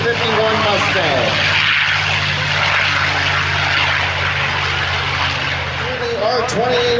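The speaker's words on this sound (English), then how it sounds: "Engine from our P-51 Mustang." P-51 Mustang piston engine at the Abbotsford airshow, a loud steady propeller drone with harmonic throb that holds for the full stretch and rises slightly near the end, with crowd and announcer voices underneath.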